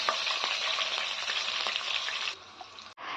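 Mustard seeds, cumin and cut green chillies fry in hot oil in a pan for an upma, giving a dense, bright, close sizzle that drops suddenly near the end before flaring briefly again.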